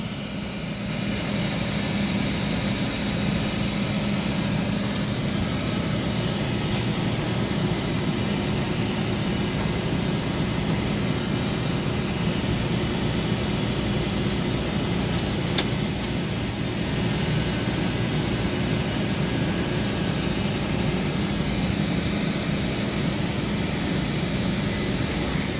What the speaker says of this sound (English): All right, my indoor blower came on.